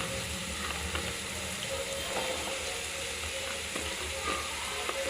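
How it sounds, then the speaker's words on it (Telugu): Drumstick pieces added to onions in a pan for a drumstick and milk curry give a steady, even sizzle that runs throughout, with a few faint clinks of stirring and no voices. "మునక్కాడలు కూడా ఆనియన్స్తో పాటు వేయాలండి"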